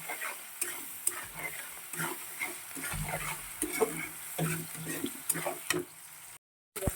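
Salted onions frying until soft in a pan give a continuous close sizzle, broken by repeated stirring scrapes and taps, then cut off by a brief silence near the end.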